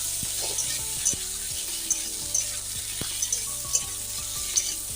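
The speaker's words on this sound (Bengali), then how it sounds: "ফোড়নটা বেশ ভাজা ভাজা হয়েছে এখন সবজিগুলো দিয়ে বেশ ভালো করে নিয়ে চলে নিচ্ছি" Vegetables hit hot oil already tempered with five-spice, giving a steady close-up sizzle and crackle with scattered sharp pops and occasional stirring clicks, with no talk.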